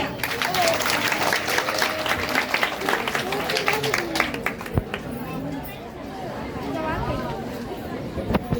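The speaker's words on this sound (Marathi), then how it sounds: "तुमच्या टाळ्यांचा आवाज असतो. तोच एकदा जोरात होऊन जाऊ द्या" A festive Mangalagaur gathering's audience claps loudly and densely for the performers for about four seconds, then the applause fades into crowd chatter and voices.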